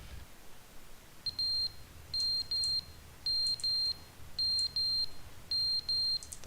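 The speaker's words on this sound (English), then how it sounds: "That a smoke detector?" A smoke detector chirps in short high-pitched beeps, mostly in pairs repeated at a steady rhythm, fairly faint over a low background hum.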